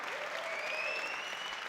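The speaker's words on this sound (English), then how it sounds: "Crowd going ballistic." Crowd applauding and cheering at a professional squash match, a sustained wash of clapping with whistles rising over it, steady and moderately distant throughout.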